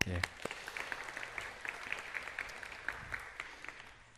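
Congregation at a Sunday church service applauding the choir, a thin, uneven scatter of claps heard from a distance in a reverberant hall.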